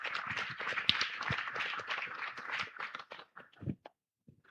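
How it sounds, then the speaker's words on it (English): Applause from an audience for session speakers at a digital connectivity roundtable: a steady patter of many hands clapping, dense at first and then thinning into scattered claps before it fades out. "Give them a big round of applause"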